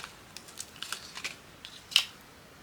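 Scissors snip through a piece of cotton for crafting, a handful of quiet, crisp cuts spaced unevenly, ending with one sharper, louder snip.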